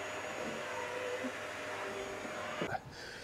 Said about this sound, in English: There's mum hoovering out the engine bay,